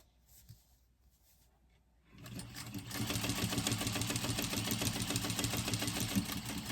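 A sewing machine stitching a tote bag starts after a quiet pause with a few soft clicks, then runs fast and steady in a close, even mechanical whir for the rest of the clip, with no talk.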